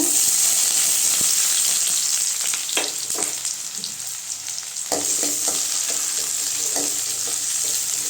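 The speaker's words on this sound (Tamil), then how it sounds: "வெங்காயம் நல்லா வதங்கட்டுங்க" Onions, with dried red chillies, fry in a pan for a lentil and greens dish, a loud continuous sizzle broken by scraping stirring strokes of a spoon, close by and without speech.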